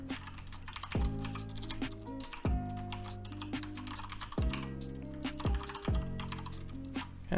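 Fingers type an email address and password on a computer keyboard, a close, steady patter of key clicks with occasional sharper presses, alongside a continuous tonal hum.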